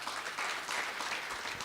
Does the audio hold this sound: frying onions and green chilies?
no